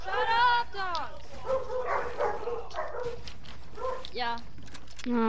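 Several barks and yips from dogs in a room, scattered across a few seconds, partly masked by a person speaking.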